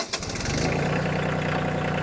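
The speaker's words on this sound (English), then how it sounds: "So there's the RPMs of the tractor when I start it up and it's at idle, the idling speed." A tractor engine starts with a brief cranking burst, then settles into a steady, loud, continuous idle rumble that holds close and even to the end, with no talking.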